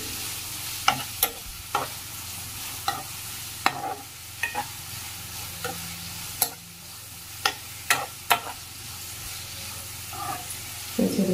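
Onions with salt sautéing in a pan for egg roast, a steady low sizzle under repeated sharp scrapes and taps of a spoon stirring against the pan, close and without talk.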